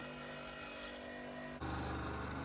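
A Parkside bandsaw runs while cutting a star shape from scrap wood: a steady, fairly quiet mechanical whine that shifts to a denser, rougher tone partway through, heard up close and alone.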